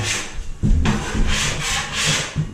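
Scraping tool dragged across high points of plaster on a boarded ceiling, a close, loud series of rough rasping strokes in an uneven rhythm, heard alone.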